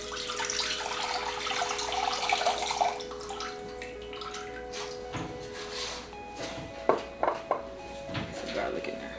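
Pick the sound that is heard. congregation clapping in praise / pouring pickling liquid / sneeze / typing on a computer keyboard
pouring pickling liquid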